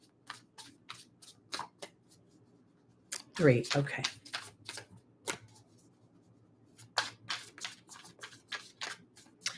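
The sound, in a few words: shuffling tarot cards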